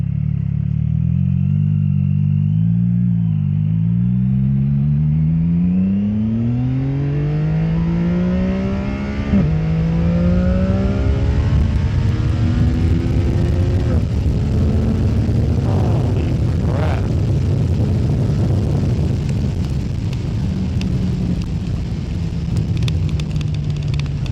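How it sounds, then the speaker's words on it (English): A CF Moto 675 motorcycle accelerating hard on an Alabama road, the engine note climbing steadily through the gears with a brief dip at each shift, loud and close, building into heavy wind and engine roar. "It just accelerates so quick because of all that torque it has."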